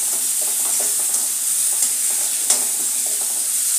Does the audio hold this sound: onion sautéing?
yes